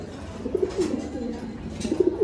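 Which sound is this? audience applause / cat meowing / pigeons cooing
pigeons cooing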